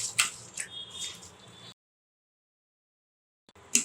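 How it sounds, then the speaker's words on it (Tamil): Marinated chicken pieces worked by hand in a bowl: wet, squelching squishes and sticky drips, close and fairly quiet, that stop abruptly into silence before a short squish returns. "கையாலேயே நல்லா மிக்ஸ் பண்ணி விட்டுடலாம்."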